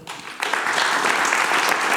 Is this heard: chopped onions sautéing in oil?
no